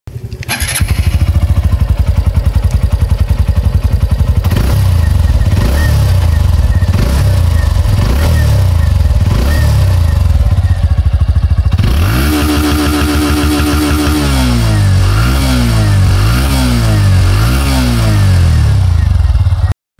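A Hero Glamour X 125 motorcycle with a single long chrome exhaust idles loudly up close and is blipped through a steady series of throttle revs that rise and fall in regular pulses.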